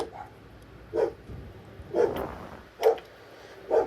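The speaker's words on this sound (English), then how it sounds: "Ignore my dogs. They do that when they hear noises." Four sharp dog barks at roughly one-second intervals, fairly close, with quiet room noise between them.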